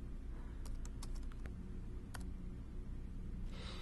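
Computer keyboard keys clatter in short quick bursts of clicks over steady low room hum, typing text into script writing software, fairly close and alone without talk.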